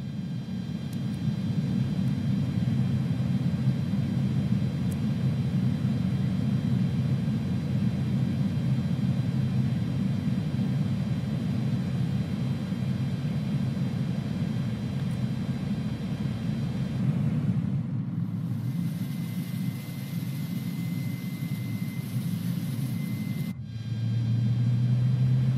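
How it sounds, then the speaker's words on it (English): Simulated Airbus A310 jet engine spooling up in a flight sim, a steady low rumble and hum that holds for most of the stretch before cutting away to quieter tones near the end. "let's crank up the first engine"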